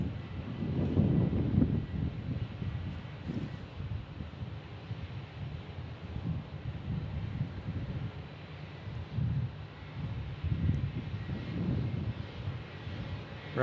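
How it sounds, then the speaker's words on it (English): A Cessna 650 jet at Dallas Love Field gives a steady, moderately distant roar of engine noise with low rumbling swells and some wind buffeting, and no speech over it. "Cessna 650. I see it."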